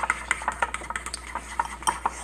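Foam soap is stirred into a bowl of glue and dye slime, giving quick repeated scraping and clicking strokes of a utensil against the container in an even rhythm, close and alone.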